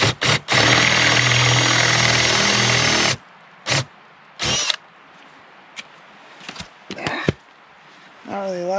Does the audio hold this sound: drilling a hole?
yes